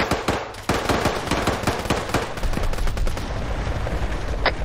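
AK rifle bursts in the military video game Arma 3, loud rapid volleys of cracking shots, several overlapping close and distant, with a lull after the opening barrage.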